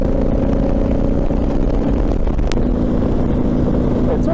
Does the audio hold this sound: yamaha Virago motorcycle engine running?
yes